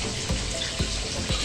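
A toy swimming baby doll goes into pool water with steady splashing and running-water sounds, broken by a few soft thumps spaced across the moment, fairly close and with no talking.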